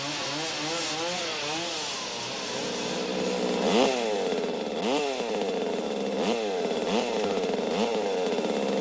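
A chainsaw engine buzzes steadily, its pitch repeatedly revving up and dropping in sweeping surges, loud and close throughout.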